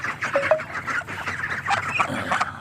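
A flock of domestic ducks quacking and chattering close by on a rural farm, overlapping calls in a busy, irregular stream with no talking.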